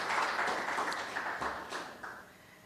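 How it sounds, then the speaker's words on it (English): An audience gives a round of applause at a Premier Soccer League sponsorship unveiling, with dense clapping that is fairly faint and slowly tapers off. "I believe that deserves a big round of applause"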